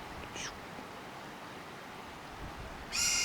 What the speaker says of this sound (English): There's a bird of prey keeps swooping in.